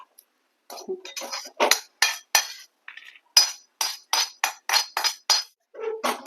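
Metal spoon scraping and clinking repeatedly against a pan as ghee-roasted poppy seeds, almonds and cashews are moved onto a plate, about a dozen sharp, close taps in an uneven rhythm.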